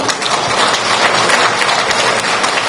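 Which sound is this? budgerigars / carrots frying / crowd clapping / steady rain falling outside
crowd clapping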